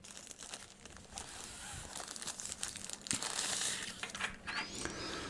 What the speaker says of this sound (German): packen wir mal hier erstmal aus und gucken uns an, was in der Tüte drin ist